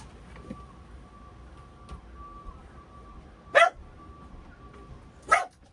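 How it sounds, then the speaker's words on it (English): Two sharp, separate dog barks about two seconds apart inside a home, loud and close against a faint background hum, with no talking. "Let me just put my dog out real quick."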